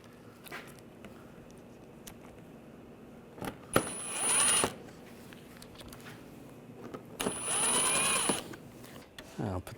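Screws are driven in to snug down a front bumper cover on a 2009-2017 Volkswagen Tiguan, two short bursts of a high-pitched powered driver whirring with light clicks and handling noises between them.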